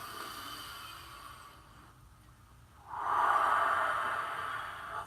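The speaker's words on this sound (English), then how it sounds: "Get those big exhales going." Heavy breathing during a rising meditation, with one softer airy breath fading out, a short pause, then a strong, close, rushing exhale that trails off.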